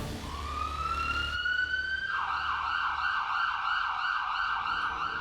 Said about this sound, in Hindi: अनिवार्य नियमों से वाकिफ है हम, इसीलिए एम्बुलेंस बुला ली।